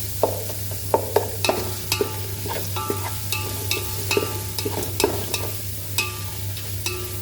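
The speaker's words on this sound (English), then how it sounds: "fry this very nicely." Frying in a pan for a Goan chilli gobi dish, steady sizzle with frequent clinks and scrapes of a stirring spoon, close by, over a faint low hum.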